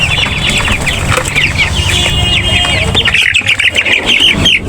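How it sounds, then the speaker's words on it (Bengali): Young tiger-breed chickens, 22 days old, in a small flock of 28, squawk and chirp in a steady, overlapping chorus close by, with occasional wing flaps and clucks underneath. "আমরা এখানে 28টা মুরগি সম্পূর্ণ রেখে দিয়েছি আর কি"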